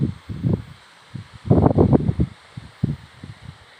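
Wind stirs tree leaves outdoors, producing soft, irregular rustling gusts that rise to a denser swell midway and then ease off, over a low steady background hiss.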